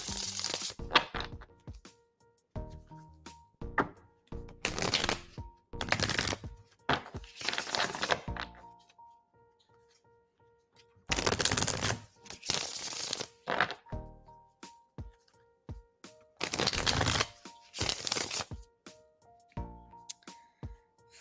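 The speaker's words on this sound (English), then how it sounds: "Let's shuffle for you now." Tarot cards shuffled in repeated bursts of riffling and flapping, close and crisp, separated by short quiet pauses and soft handling thuds.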